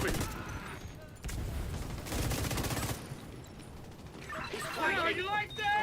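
Gunfire at an enemy in a cooperative shooter video game: rapid rattling volleys and bursts of shots over busy combat noise, with a voice talking throughout.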